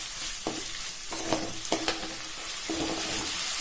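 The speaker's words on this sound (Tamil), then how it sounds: "இப்போ நம்ம க்ளீன் பண்ணி எடுத்து வச்சுருக்கிற வல்லாரை கீரை இதில் சேர்த்து ஒரு 2 நிமிஷத்துக்கு வதக்கிக்கிடலாம்." Vallarai greens sautéed with tomato in a pan, giving a soft continuous sizzle with several short scraping strokes of a spatula against the metal, close and without talk.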